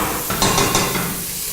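Onions, garlic and chilies frying in a very hot pan for a vegetarian chili sin carne, a brief steady sizzle with a couple of sharp clatters from stirring.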